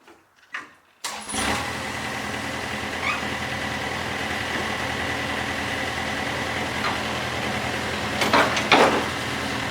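The engine of a 2011 John Deere 1600 wide area mower starts after a few brief knocks and settles into a loud, steady running drone close by, with some clanking near the end.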